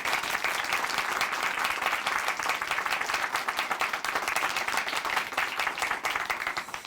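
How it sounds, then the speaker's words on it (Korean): A church audience at a Christian testimony program applauds a guest, a dense, even round of clapping from many hands that carries steadily for nearly seven seconds at moderate volume. "우리 자매님께 다시 한번 박수 보내드릴게요."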